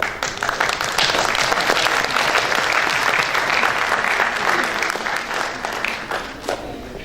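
Loud, full applause from an audience at a public health policy talk, dense clapping that swells quickly, stays vigorous for several seconds and tapers near the end.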